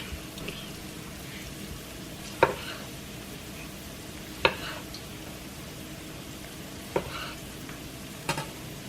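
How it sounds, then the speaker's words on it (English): Garlic frying in a pan for shrimp fried rice, a steady close sizzle broken by a few sharp clicks of a utensil against the pan at irregular intervals. "See, my garlic is start cooking a little bit."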